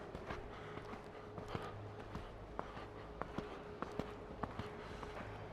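Steady rhythmic hoofbeats of a horse cantering during a riding lesson, regular thuds repeating about every half second over a constant low rumble, with no talking.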